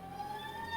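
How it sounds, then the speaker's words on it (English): A steady wailing siren tone holds briefly, fairly faint, over a low rumbling background. "that was a siren."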